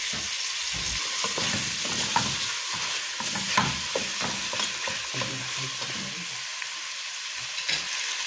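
Chicken fries in olive oil while being stirred, with a continuous close sizzle broken by frequent spoon scrapes and clacks against the pot in an uneven rhythm.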